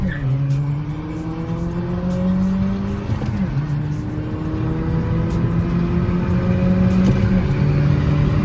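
Two Skoda Laura sedans, one stage 1 and one stage 2 tuned, accelerating side by side in a roll race; loud engine drones climb steadily in pitch, with a gear-shift dip near the middle, continuous and close.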